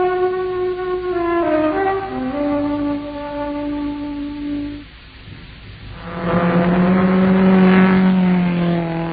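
A car engine revs as a sound effect in an old-time radio advertisement for car wax, a steady droning hum that drops, then swells louder in a rising roar, with no voices over it.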